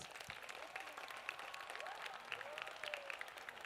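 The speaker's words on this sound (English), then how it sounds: "Let us give them a huge round of applause" Audience applause at a school annual sports day program, a steady wash of many hands clapping throughout, moderately distant, with faint voices mixed in.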